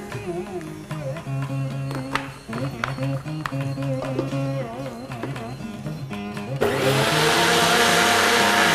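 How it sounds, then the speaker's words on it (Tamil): A mixer grinder whirs loudly, blending coconut, green chili and cumin with a little water, its motor pitch shifting in bursts before rising into a steady high roar. "தேங்காய் அரைச்சிக்கலாம்"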